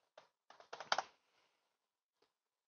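Someone types on a computer keyboard in a quiet room: a short cluster of quick, close keystrokes, then a pause and one last isolated tap.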